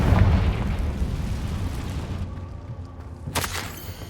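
A Confringo fire spell explodes in Hogwarts Legacy, opening with a loud booming blast that rumbles away, followed a few seconds later by a second sharp burst.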